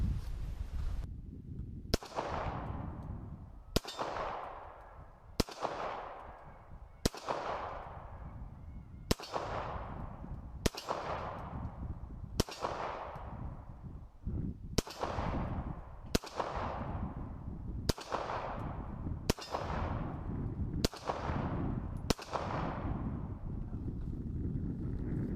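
Fourteen sharp pistol shots from a cheap Lorcin L9 9mm semi-automatic handgun, fired one at a time at a steady, unhurried pace, each crack followed by a short decaying echo at a range.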